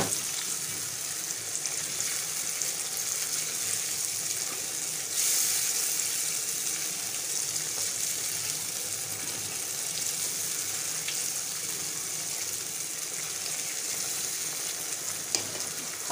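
Cream is stirred into chicken karahi in a hot pan, a steady sizzle and fry running loud and continuous throughout with occasional scraping of the spoon.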